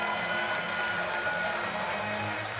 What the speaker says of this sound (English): Let's send her home with a round of applause.